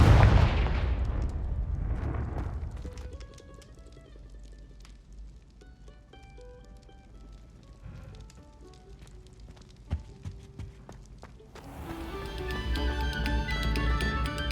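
Booming, rumbling blasts from the Confringo fire spell in the video game Hogwarts Legacy open the clip and return near the end, with game music playing softly in between.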